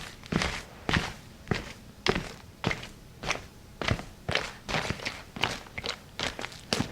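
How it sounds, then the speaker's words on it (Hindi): Slow, steady footsteps in a horror story scene, about a dozen distinct thudding steps at an even walking pace, close and moderately loud with no voices. "पर तभी किसी के कदमों की आवाज आई।"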